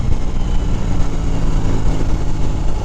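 A 2022 BMW R18 B cruiser motorcycle engine rumbles steadily while riding in Southern California, a loud low-pitched growl blended with wind noise and no talking.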